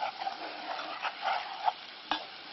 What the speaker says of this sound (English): And this is where you need to keep stirring it. Make sure the flour doesn't catch on the bottom.